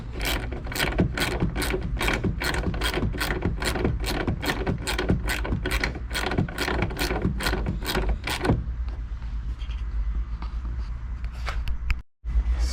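A ratchet tightens a tail lamp bolt on a Chevy Cruze, giving a long run of rapid, evenly spaced close clicks that stops abruptly, followed by quiet handling noise.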